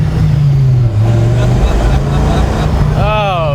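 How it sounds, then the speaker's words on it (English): A 1993 Dodge Viper V10 engine drones steadily, then revs up sharply near the end with rising, sweeping pitch, sounding close and powerful. "It's a V10. Yeah. The noise, it's glorious. Let's give it a little bit here."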